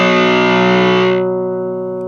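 An electric guitar run through an MXR Classic 108 Mini fuzz pedal holds one thick, saturated sustained chord that rings loud and even, then its bright edge drops away and a softer hum lingers.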